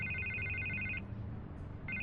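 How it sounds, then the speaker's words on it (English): A telephone rings in a Batman video game, a clear repeated electronic bell with one burst followed by a pause and the start of another, heard alone at a moderate distance. "I can't get the phone to stop ringing."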